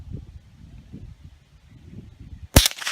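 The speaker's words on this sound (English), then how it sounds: "They're shooting shotguns." A shotgun fired once at an outdoor shooting lesson, a sharp, loud crack near the end after quiet low rumble and wind.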